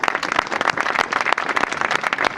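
Outdoor audience applause for a former member of parliament at a local political gathering, dense and steady clapping from many hands at close range, continuous throughout with no talk over it.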